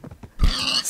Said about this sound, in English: Oh, there's a pig. Bye, pig.